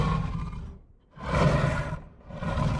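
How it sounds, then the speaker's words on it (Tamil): Two long, loud growling roars from a cartoon tiger in a jungle, each swelling and fading with a short gap between them. "ஒருவேளை அந்த புலியோட சத்தமாக இருக்குமோ?"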